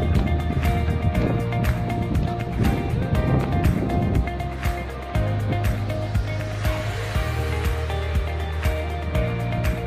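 Continuous roar of ocean surf at the seaside in Northern Samar, Philippines, with a rumbling engine-like drone underneath, loud and close, a steady wash with no clear pauses.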